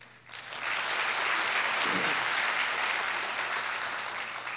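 Guests at a university anniversary ceremony receive a swell of applause from the audience, rising quickly after a brief quiet start into a full, steady roar of clapping that holds to the end.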